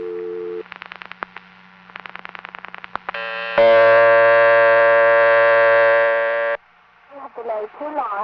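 An ITT Pentaconta crossbar exchange in Asheboro, North Carolina gives a low tone: clicks and bursts of pulsing tone, then a loud sustained tone lasting about three seconds before a recorded voice begins.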